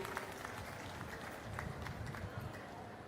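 Applause from a large audience at a public speech event, a steady broadband patter of many hands clapping, moderately distant and continuous throughout with faint voices underneath.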